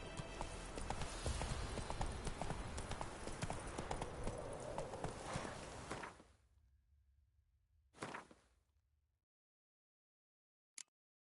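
Hooves of Roach, Geralt's horse in The Witcher 3 set around White Orchard, clatter in a fast, dense gallop for about six seconds, then fade to a low rumble with a couple of brief thuds before silence.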